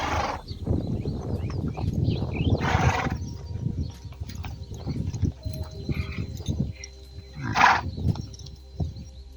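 A wild horse ridden outdoors by a young girl, with soft hoof clip-clops, snorts and a couple of short whinnies, fairly close and moderately loud over a quiet background.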